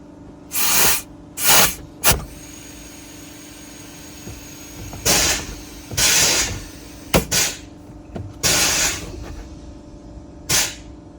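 On a Kenworth truck with a 19-litre Cummins KT, the air brakes release in a series of loud, sharp hissing bursts, about a dozen, spaced irregularly with quiet gaps between them.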